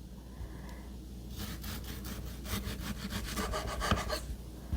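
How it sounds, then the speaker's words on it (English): A knife slices green tomatoes into quarter-inch rounds, making a quiet, rhythmic series of close, scraping strokes that speeds up after a moment of near silence. "I'm slicing these about 1/4 of an inch thick"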